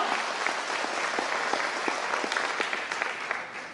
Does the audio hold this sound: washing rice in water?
no